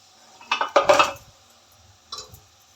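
Pressure cooker lid being opened while cooking sprouted horse gram, heard as a few close metallic clanks and scrapes of pot and lid in quick succession, then a softer clink after a pause.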